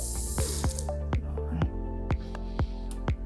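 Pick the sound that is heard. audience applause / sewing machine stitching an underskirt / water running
water running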